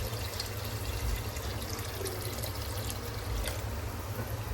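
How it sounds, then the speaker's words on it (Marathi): Water pours steadily into a pot of dal khichdi, making a soft, continuous trickle over a low background rumble, with no voices. "पण थोडं पाणी टाकते अजून."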